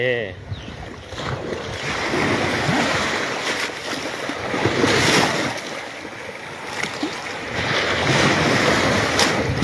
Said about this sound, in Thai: นี่ครับทะเล